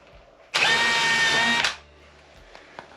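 Power drill driving a screw at an angle into window trim, one loud close high whine lasting about a second, then quiet with small handling clicks.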